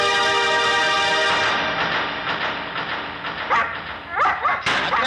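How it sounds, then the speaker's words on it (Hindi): A dog barks and whimpers in a Hindi film scene, several sharp yelps in quick succession near the end over a sustained tonal hum in the background. "फिर क्यों भौंक रहा है?"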